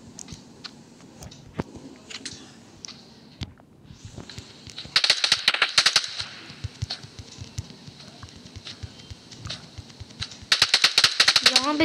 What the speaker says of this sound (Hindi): यहाँ पे अभी भी शूटिंग हो रही है